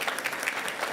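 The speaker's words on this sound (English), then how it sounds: "If you could give one big round of applause to our pledge leader," A school board meeting audience claps for the student pledge leader, a brief burst of steady, close applause with distinct hand claps.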